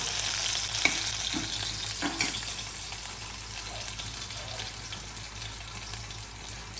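Upma cooks in ghee in a pan, making a steady, moderate sizzle with a few scraping stirs early on, with no voices heard.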